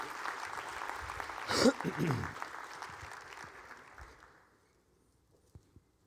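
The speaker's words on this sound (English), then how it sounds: "Let's give these guys a round of applause up here." Audience applause at a speaker-series event swells briefly as a crowd claps, then fades to near silence, with a speaker's voice over the start of the clapping.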